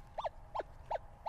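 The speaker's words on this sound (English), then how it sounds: "You can hear it double beeping," A metal detector sounds four evenly spaced paired beeps while sweeping over a small buried target outdoors, faint and close over quiet background.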